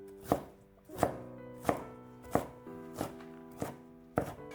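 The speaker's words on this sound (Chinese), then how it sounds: "然后将辣椒切成粗条， 再改刀切成小碎丁" A knife chops chili pepper into small dice on a cutting board, seven sharp, evenly spaced thuds in a steady rhythm, close and clear with no voices.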